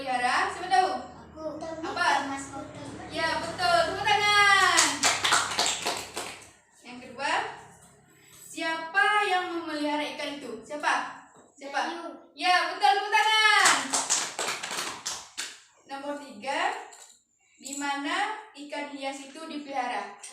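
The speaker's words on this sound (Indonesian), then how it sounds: "Ya betul, tepuk tangan." Children in a classroom clap their hands together in short bursts between a teacher's questions, with lively child and adult speech running over and between the applause.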